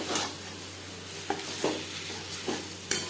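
Fish roe being mixed into an onion, tomato and spice masala in a pan, a soft steady sizzle with a few quiet scraping strokes of the spoon, faint and without talk.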